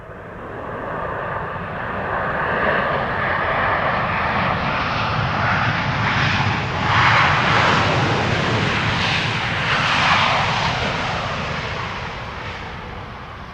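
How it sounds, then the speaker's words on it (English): An Arkia Airbus A321neo jet at Amsterdam Schiphol, its steady engine roar swelling and holding loud for several seconds before easing slightly, heard alone without talk. "So this is an Arkia A321neo."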